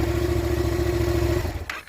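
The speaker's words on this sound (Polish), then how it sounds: "a to odpalasz motocykl zupełnie niepotrzebnie" A motorcycle engine idles steadily and close by during a category A riding exam, a low, even throb that cuts off abruptly near the end and leaves brief quiet.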